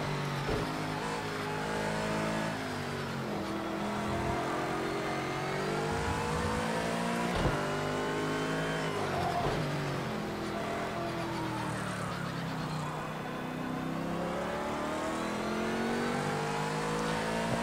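A Formula 1 car engine in the F1 2017 racing game screams through continuous rising and falling revs, loud and close throughout, with sharp gear-shift breaks and no pauses.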